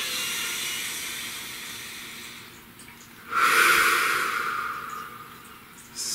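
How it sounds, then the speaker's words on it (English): A deep breath, a long airy inhale and exhale, close and alone, with a louder breathy surge partway through. "Please take a nice deep breath last time."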